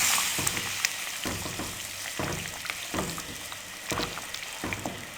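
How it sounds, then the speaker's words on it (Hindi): Potato and egg shorba ingredients sautéing in a pan while being stirred, a loud sizzle broken by repeated scraping spoon strokes, close up and with no talking. "अब इन तमाम चीज़ों को अच्छे से मिक्स कर लेंगे"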